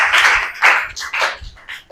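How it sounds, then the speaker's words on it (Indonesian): A small classroom group applauds a student named Melisa during a school lesson, with loud, close, uneven bursts of clapping that swell and fade in waves. "Oke, kita kasih aplaus dulu untuk Melisa."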